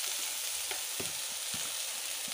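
Crushed garlic cloves, skins left on, sizzling in a hot pan for a curry, giving a steady close crackle and hiss with a few soft stirring knocks, no voices.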